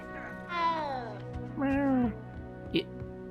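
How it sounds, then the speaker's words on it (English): Cats in Hogwarts Legacy give two long, drawn-out meows followed by a short chirp, loud and close against a quiet game backdrop. "So why is there so many cats?"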